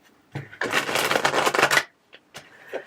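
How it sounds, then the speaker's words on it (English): Tarot cards riffled in a single dense burst of papery flutter lasting over a second, close and fairly loud, with a few soft card taps and slaps before and after. "That was a nice shuffle."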